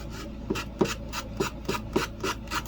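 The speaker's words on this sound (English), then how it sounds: "Now, I'm going to just trim it off by sanding it." Rhythmic sandpaper strokes rub back and forth across a wooden board to sand off excess, about eight scraping passes at a steady pace, close and fairly quiet with no talking.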